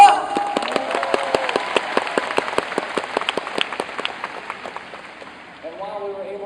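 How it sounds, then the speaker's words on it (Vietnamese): Audience applause fills the room at an Amway Vietnam event after stage performances: dense, steady clapping from a large crowd that thins and fades near the end, when a voice briefly takes over. "Các anh chị có thể dành một tràng pháo tay lớn hơn được không ạ?"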